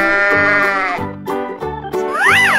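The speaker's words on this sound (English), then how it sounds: "Sheep." A cartoon sheep bleats in long, wavering, close-up cries, with a rising and falling bleat at the end and no speech.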